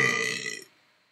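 A single human burp used as a sound effect at the start of a music beat: one loud, close, croaking belch lasting under a second before cutting to silence.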